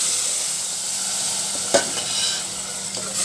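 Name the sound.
yogurt added to fried green chillies and garlic, sizzling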